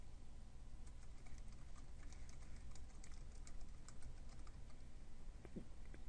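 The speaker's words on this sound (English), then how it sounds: "we're going to simply type out an email address" Faint, steady keystrokes patter on a computer keyboard while an email address is typed, quick and even over a low background hiss.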